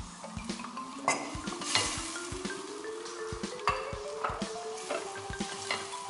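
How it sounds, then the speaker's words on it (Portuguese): Butter melting with olive oil in a pan for a shrimp dish, giving a steady close sizzle with scattered clinks of a utensil against the pan and a faint rising tone beneath. "a gente vai derreter a manteiga. Adiciona o azeite."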